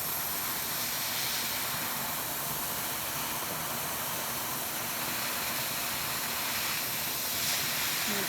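Steady broadband steam hiss from steaming handspun art yarn spun from a beaded batt to set the twist, continuous and fairly close with no talking.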